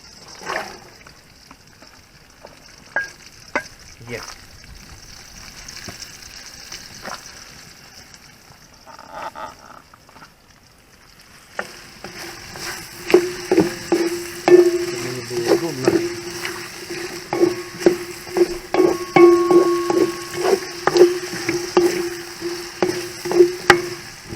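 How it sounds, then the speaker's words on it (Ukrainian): Carrots and onions hit hot oil on an outdoor grill, where quiet clatter gives way to a loud, steady sizzle with stirring sounds close by. "Олійка наша вже кипить. Тут гаряче в нас. Те, що я вам і казав, ми додаємо морковку і цибульку на обжарку."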